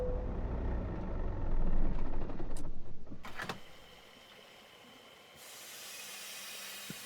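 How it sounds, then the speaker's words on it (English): Truck air brakes hiss in American Truck Simulator: a sharp burst of air, then a steady high hiss that lingers over a low rumbling engine. "that noise is my air brakes"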